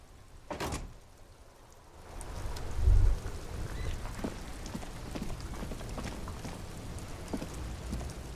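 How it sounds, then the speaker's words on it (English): Rain falling in the video game Disco Elysium, a steady soft hiss of drops on surfaces with a thud and a door-like clunk partway through, no voices. "Stuck in the rain in a traffic jam, man."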